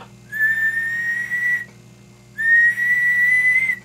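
A steady whistle sent over an unmodified Tram Titan CB radio, heard as two sustained tones of about a second and a half each with a short gap between them, carried over a low background hum.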